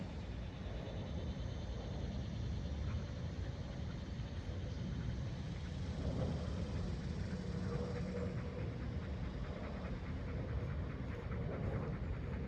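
A dog pants steadily close by during outdoor walking and drill training, a continuous rhythmic breathing over a broad background rumble for the whole stretch.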